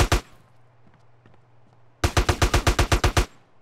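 Rapid automatic gunfire from Grand Theft Auto: San Andreas: a single loud shot, a short lull, then a tight burst of about a dozen sharp cracks in quick, even succession.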